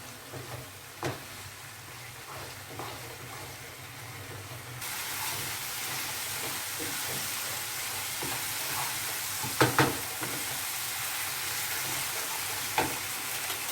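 Potatoes for aloo dum sizzle steadily in a hot wok while a spoon stirs and scrapes them, with occasional sharper clinks and bursts of hiss over the frying.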